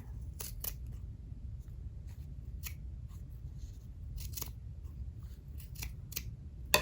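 Scissors snip through fabric while trimming the edge of a circle for a covered button, a series of short, crisp cuts in quick clusters over a steady low background hum.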